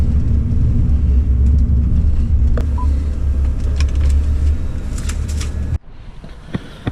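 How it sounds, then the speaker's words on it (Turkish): A car in a driving video game idles and is parked, its steady low engine drone running loud with faint clicks before cutting off abruptly near the end. "Evet aracımızı park edelim ve yolumuza gidelim."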